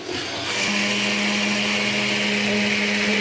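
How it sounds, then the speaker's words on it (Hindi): An electric grinder jug whirs steadily as it grinds roasted flax seeds, a loud continuous motor drone with a constant whining tone, starting slightly lower and settling into a full, even grind for several seconds. "अब हम देखें इसको ना ग्राइंड करेंगे जग में"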